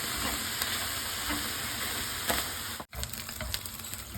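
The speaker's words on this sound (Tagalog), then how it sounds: "Pwede na natin i-gisa ang mga sibuyas, bawang, lakuna at ginger." Pork, onions, garlic, ginger and chili sauté in hot oil in a pan, giving a steady, close, full sizzle that runs unbroken, with a brief dip near the end.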